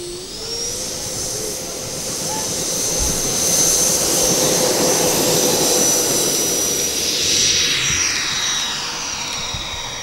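An RC model Qantas Boeing 737 MAX 8 jet takes off, its turbine whine rising in pitch and swelling into a loud, steady roar before easing slightly as it climbs away.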